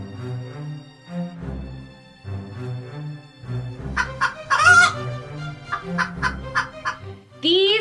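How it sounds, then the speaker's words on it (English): Barnyard fowl cluck and gobble in a busy, overlapping chorus, with repeated close squawks and a crow-like call rising toward the end, no speech heard. "These are his precious chickens."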